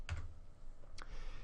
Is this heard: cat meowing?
no